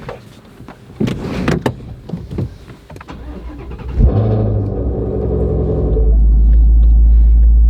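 Clicks and clunks lead into a Ford Mustang Shelby GT350R engine cranking and catching, then settling into a loud, steady low rumble at close range, in the rain.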